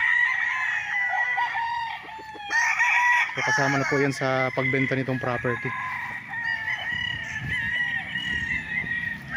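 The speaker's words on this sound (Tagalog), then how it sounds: "tinitrain yung mga manok bago ilaban" Fighting roosters crowing on a farm lot in Pagsanjan, Laguna, several calls overlapping near and far, with clucking and someone speaking throughout.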